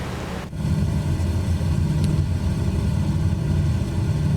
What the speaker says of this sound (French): Un bruit très caractéristique de ces avions d'époque